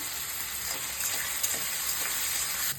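Onion and tomato with a little sugar frying in hot oil for a Bengali prawn and ridge gourd dish, a constant bright hiss with faint stirring scrapes, close and steady, no talking.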